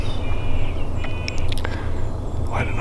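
Wild Merriam's turkeys gobble from distant roosts in the Idaho morning, faint and scattered calls rising over steady low wind or rumble, with no one speaking.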